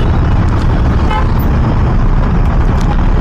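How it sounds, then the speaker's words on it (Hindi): Heavy road traffic jam near Shipra Mall in Indirapuram, a dense constant roar of engines with a car horn tooting briefly amid the rumble. "अरे यार इतना ढेर भी ट्रैफिक में फंस गए हैं।"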